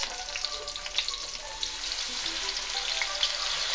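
Fish sauce sizzles and fries steadily in a hot pan for a squid dish, a dense continuous crackle and hiss with small pops, close and fairly loud, without talk.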